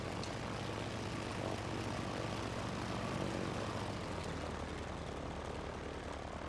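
Propeller airplane engine in a flying video game, a steady, loud, broadband drone that holds unchanged throughout with no voices.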